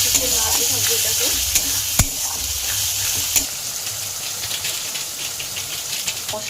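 Chana masala stirred in a hot pan with a little sugar added, giving a steady close sizzle with scraping spoon strokes and a few sharp clicks against the pan, no voices.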